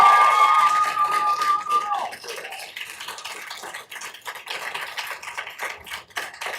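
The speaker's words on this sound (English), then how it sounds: "Lengthy applause means fewer speakers tonight." Sustained clapping from the audience at a Tucson city council meeting, a dense, steady crowd wash that follows a brief tonal sound at the start.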